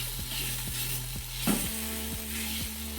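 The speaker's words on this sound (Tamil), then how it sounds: "இது எண்ணெயிலே நல்லா வதங்கிடும்." Gongura leaves frying in oil in a pan, a continuous close sizzle with regular rhythmic scraping strokes of a spatula and one sharper clank midway, no voices.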